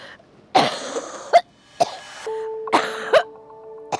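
Several hard, harsh coughs from rhinitis burst out close by in an uneven fit, with short gaps and a faint steady tone in the background.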